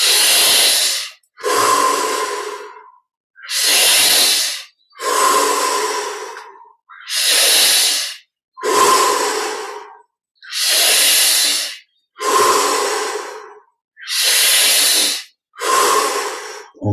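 Slow, deep breaths during a guided meditation, ten long hissing inhales and exhales in an even rhythm, close to the microphone with silent pauses between them.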